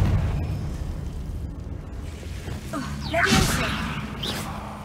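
A Confringo blasting curse explodes in Hogwarts Legacy, the spell fired to clear a way across. A whooshing burst swells into a loud, crackling blast near the end, over low game ambience, with a voice speaking during the clip.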